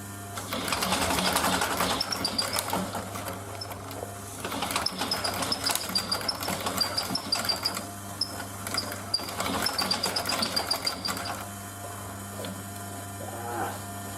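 A sewing machine stitches a canvas and leather bag in steady bursts, with mains hum underneath, then stops near the end after the thread breaks.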